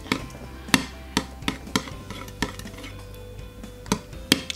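A glow-in-the-dark slime mixture from an Elmer's slime kit is stirred in a bowl, with irregular sharp clicks and taps of the utensil against the container over a low background hum.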